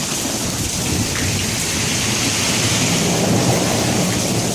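A thunderstorm, the first of 2016, pours steady loud rain with thunder rumbling underneath, a dense continuous wash of hiss close by with no voices.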